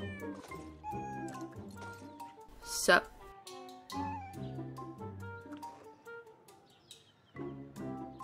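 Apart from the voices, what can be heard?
cat meowing in a video game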